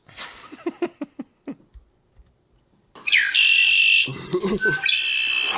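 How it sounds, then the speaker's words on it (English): A red-winged blackbird sings outdoors: a few clipped clicks and chucks first, then after a pause a loud, buzzy trilling song with shrill high notes, continuing to the end. "That's a Red Wing Blackbird."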